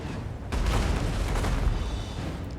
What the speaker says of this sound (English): My Field Trebuchet keep dropping shots here.